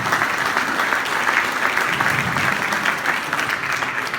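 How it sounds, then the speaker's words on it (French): An audience at a French civic gathering applauds a six-time former mayor, a continuous, crowded clapping that stays full and even throughout, with no voices rising above it. "Vous pouvez l'applaudir."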